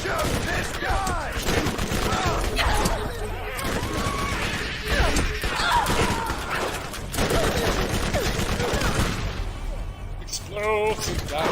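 Dense gunfire and explosive blasts from the Borderlands Game of the Year co-op shooter, a loud continuous barrage with crashes throughout, with people talking over it.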